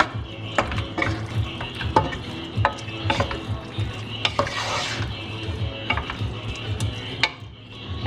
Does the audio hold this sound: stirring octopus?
yes